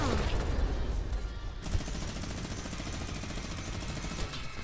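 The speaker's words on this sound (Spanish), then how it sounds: "Tírale tú con la minigun y entonces yo le disparo con el dos." Rapid minigun fire in a video game, a dense continuous rattle of shots that bursts louder partway through, with players talking over it.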